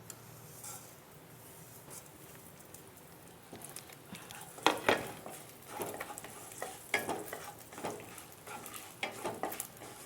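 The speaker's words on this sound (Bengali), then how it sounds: "তেলের মধ্যে আমি 5 ফোড়নটাকে ভেজে নেব।" Panch phoron spices frying in hot oil for mango pickle give a quiet, continuous sizzle with intermittent crackles and spoon-stirring scrapes that grow busier midway, and no one speaks.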